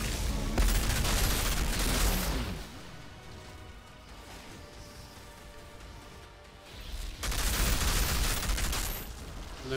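Gunfire and explosions from shooting enemies in a video game with a Techno Flame Lepper set, heavy dense bursts at the start and end with a quieter stretch between, no talk.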